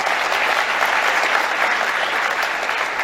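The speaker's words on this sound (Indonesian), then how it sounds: "tepuk tangan untuk semuanya" A crowd of parents and guests at a Qur'an and academic graduation ceremony at Al-Fityan School in Tangerang breaks into dense, sustained applause. The many hands clap together in an even, continuous wash of sound throughout.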